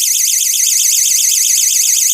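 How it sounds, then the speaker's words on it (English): A personal safety alarm with a built-in flashlight gives off a loud, steady, high-pitched warbling siren that runs continuously and close by with no talk over it. "there's a button here that is the alarm."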